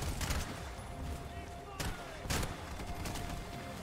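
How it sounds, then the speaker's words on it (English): Bullets blowing up inside targets in the shooter game Bright Memory: Infinite, a dense crackle of gunfire with two sharp bursts standing out over a busy, loud game mix. "the bullets that are blowing up inside"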